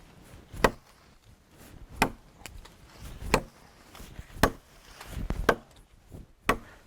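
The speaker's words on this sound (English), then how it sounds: "let's just start chopping on the wood here" An old, very sharp knife hacks into solid wood, sending chips flying; six or seven sharp, resonant chops land at irregular intervals, each a crisp crack with a short thud, fairly close and loud against quiet.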